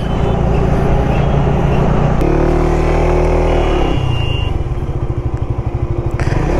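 A Xmotion motorcycle cruises along an open road on the way from Dhaka to Tetulia, its engine giving a steady, loud drone that briefly shifts pitch midway, mixed with wind rush.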